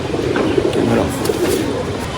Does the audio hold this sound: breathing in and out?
no